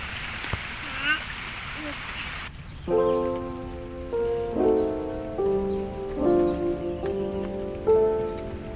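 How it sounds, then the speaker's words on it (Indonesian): Rain falls on a vegetable garden of cucumber and bitter gourd plants, a steady broadband hiss in the first few seconds before tonal music and a voice take over and mask it. "Hujan teman-teman."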